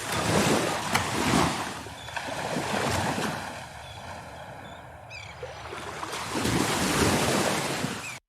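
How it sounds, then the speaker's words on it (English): Ocean waves wash in at the close of a song, surf rolling and breaking in surges with wind buffeting the microphone, loud at first, easing in the middle, then swelling again. "it's ending with the sounds of the water"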